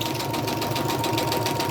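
A sewing machine stitches paper junk journal folios with their flaps folded out, giving a steady, continuous mechanical whir with a faint tonal hum throughout, close by and alone.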